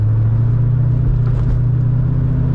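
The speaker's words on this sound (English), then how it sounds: "the exhaust noise or the engine noise of this car is actually a little too loud" A 1991 Chevrolet Corvette C4 V8 with a quad-tip exhaust idles loudly and steadily, a deep, even rumble close by with no talking.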